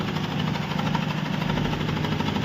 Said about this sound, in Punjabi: ਜਨਰੇਟਰ ਵੀ ਚਲਾਇਆ ਪਰ ਜਨਰੇਟਰ ਨਾਲ ਗੱਲ ਨਹੀਂ ਬਣੀ